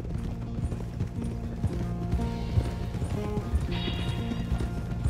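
A horse in Red Dead Redemption 2 clip-clops steadily along, with hoofbeats close and rhythmic over a low rumbling game backdrop and occasional faint tack jingles.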